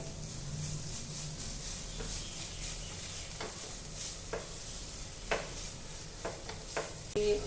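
Schezwan chutney is stirred into frankie filling in a sizzling pan, a quiet steady fry with soft spoon scrapes and light taps against the pan, no talking.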